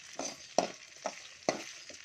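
Ingredients for a sardine (mathi) fish gravy being sautéed in a pan: a run of close scraping stir strokes, about five sharp pushes over a low sizzle, with no voices.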